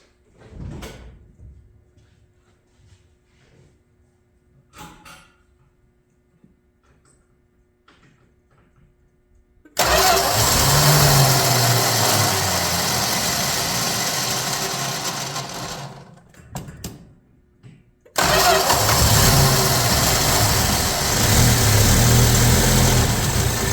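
A 1965 Plymouth Valiant 100 engine on its factory fuel system: quiet clicks and handling, then the engine cranks and catches into a loud steady run, drops out briefly and restarts to a rough idle.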